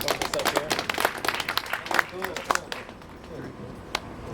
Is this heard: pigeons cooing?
no